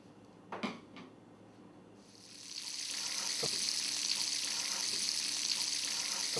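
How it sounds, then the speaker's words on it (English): About five tablespoons of butter melt in a pan with a steady, soft sizzle that rises after a couple of light clinks and then holds evenly, close and fairly quiet. "So the butter is starting to melt now."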